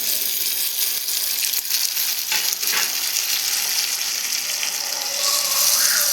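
Food sautéing in a hot pan until golden brown for a fish kulambu, a continuous loud sizzle and crackle with occasional stirring scrapes, steady throughout with no talking.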